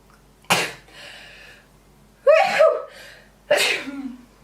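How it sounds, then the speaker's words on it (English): Three loud, sharp sneezes burst out close up, each a sudden explosive blast with a brief trailing breath, separated by short pauses. "I feel like I'm about to sneeze"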